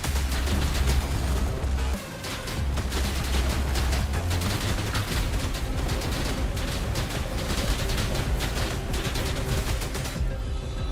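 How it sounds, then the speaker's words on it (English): Basic attacks in a video game burst out as loud, dense rapid-fire blasts and impacts, a continuous barrage with a short dip near the two-second mark, with no talking. "Let's just do our 3 basic attacks, everybody."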